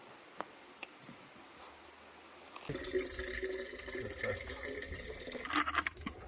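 Water running into canteens on a walking pilgrimage route: after a quiet stretch with a few small knocks, a steady splashing pour starts and runs to the end, moderately close and without speech.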